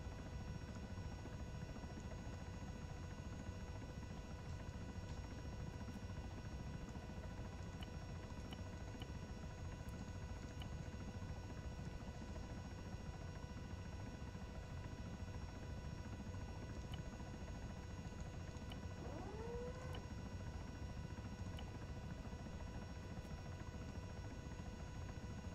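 A CH-67 Huron helicopter in the combat game Arma 3 gives a steady, loud rotor and turbine drone with a constant whine. It runs unbroken and close throughout, with no talking.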